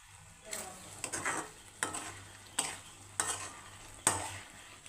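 Curry leaves going into a sizzling pan of Kerala prawn roast, steady frying hiss with a spoon scraping and stirring in repeated strokes about every second, close up.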